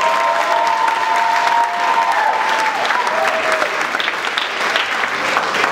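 A church congregation at a Sunday youth service bursts into loud, sustained applause and cheering, a dense wash of clapping filling the room for several seconds while a voice carries faintly through the noise.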